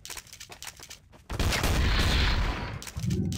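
Heavy shotgun blasts in a first-person shooter video game, a sharp broadband burst of gunfire landing loud and close after lighter clatter, sustained roaring before a second thud near the end.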